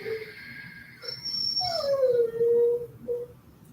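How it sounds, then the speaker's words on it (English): A dog whines to be let outside during a home yoga session, giving several close, rising and falling high-pitched whimpers that swell and fade over a few seconds with no talk. "And apparently my dog wants to go outside. If you can hear him whining, I apologize."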